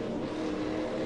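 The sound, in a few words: V8 Supercar engine running out of fuel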